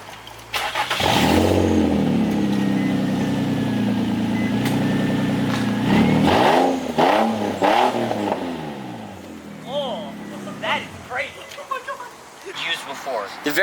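A Nissan 350Z on original stock pipes with no mufflers or tips idles loudly, then blips through several sharp revs and drops back to a burbling idle, up close and raw.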